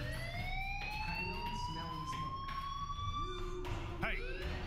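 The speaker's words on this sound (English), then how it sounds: "do you hear that fire alarm?" A fire alarm wails in a video game school setting, a rising electronic siren tone sweeping upward across the clip with other game noises and a voice briefly underneath.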